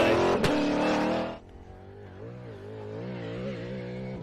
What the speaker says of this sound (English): We can hear the car just on track by itself.